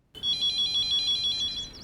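A phone ringtone in a Hindi-dubbed South Indian action film plays loud and steady, a bright warbling electronic tone repeating rapidly for nearly two seconds with no talk over it.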